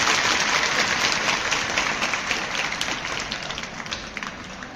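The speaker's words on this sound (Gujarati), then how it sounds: "તમારા માટે જોરદાર તાળીઓ પાડો." Broadband burst of audience applause at a Gujarati school gathering, many hands clapping steadily and fairly loud for about five seconds with no talk over it.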